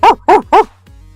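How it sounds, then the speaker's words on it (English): A dog barks three times in quick succession at a window, loud and close, with a short whimpering yip trailing off after the barks and no talk. "Barks at my window."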